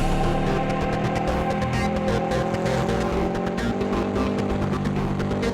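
A car engine roars steadily at high revs, loud and close, with a busy rumble that swells slightly as it accelerates.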